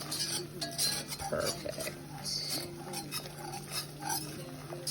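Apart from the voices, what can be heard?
whisking flour mixture in a pot for chicken wild rice soup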